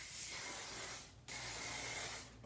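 Hairspray from an aerosol can misted onto hair while it is curled with a straightener, two close hissing bursts separated by a brief pause.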